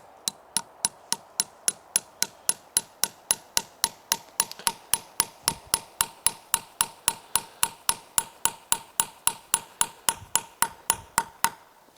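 Steady hammering of metal maple syrup taps into tree trunks outdoors in freezing weather, about thirty-five sharp, evenly spaced ringing strikes close by, with no talk.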